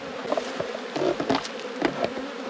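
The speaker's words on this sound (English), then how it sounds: "So you can just see the amount of bees in the air at the moment." Honeybees swarm around an opened hive, their steady buzzing drone rising as individual bees zip close past in quick loud swells.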